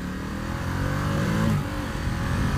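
A 2019 Ducati XDiavel S motorcycle engine pulls hard under acceleration while riding, a loud, steady mid-pitched roar with rising and falling harmonic tones, close up and without talk.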